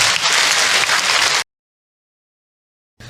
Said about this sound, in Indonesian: tepuk tangan buat Ahilman dong.